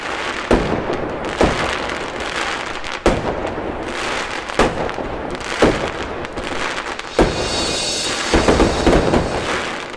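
Repeated loud Diwali firecracker bangs pop at irregular intervals over a constant hiss of distant crackling.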